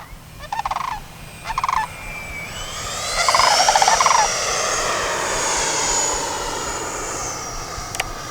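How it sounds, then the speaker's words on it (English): The 70mm ducted fan motor of a Freewing Yak-130 RC model jet gives a high-pitched whine that rises and sweeps past, loud and close, with a couple of brief chirps at the start. "This plane has some of the best sounds, best sounding motor."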